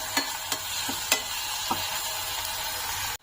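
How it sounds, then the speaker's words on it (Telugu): Ginger garlic paste sizzles in hot oil in a pan while mushroom fry is being made, a constant crackling hiss with a handful of brief spoon taps and scrapes, ending abruptly. "ఇప్పుడు ఇందులోకి 1/2 స్పూను అల్లం వెల్లుల్లి పేస్ట్ వేసుకుంటున్నాను. ఇది పచ్చి వాసన పోయేంత వరకు వేయించుకోవాలి."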